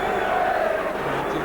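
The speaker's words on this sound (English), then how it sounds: "And you can hear what the crowd thought of the referee's decision." A 1984-85 Division One football crowd at Sunderland v Queen's Park Rangers reacts loudly to a referee's decision with a sustained roar and jeering.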